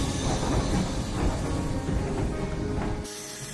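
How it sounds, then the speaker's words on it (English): A train travelling through Scotland rumbles and rattles steadily with clattering mechanical noise, loud and continuous, before cutting abruptly to a quieter hum near the end. "Come with me on a train ride through Scotland"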